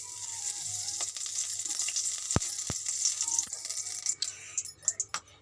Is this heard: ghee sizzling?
yes